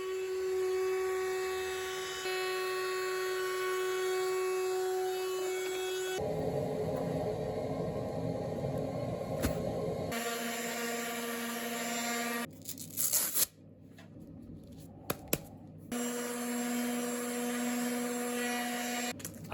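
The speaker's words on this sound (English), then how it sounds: "Once the epoxy had set, I headed back for one final operation on the CNC." A CNC machine cuts an epoxy charcuterie board with a loud, steady, high-pitched whine that shifts pitch in several sections, drops out briefly near the end, and then resumes, with no voices.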